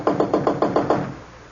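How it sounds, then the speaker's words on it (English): Six sharp, evenly spaced raps on a wooden door, close and loud, part of an old-time radio mystery drama, with the last knock fading into a quiet room. "I rapped sharply."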